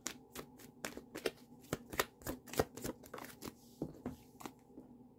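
Tarot cards being shuffled and drawn: a quick irregular run of close, soft riffling snaps and flicks of card stock, some louder slaps amid quieter rustles, with no one talking.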